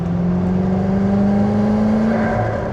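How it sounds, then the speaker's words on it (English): A 2004 Lotus Esprit V8 Twin Turbo Final Edition with its twin turbos spooling up: a steady, close engine drone carrying a thin whine that rises gradually throughout. "When those turbos spool up, you can hear the air getting sucked into them"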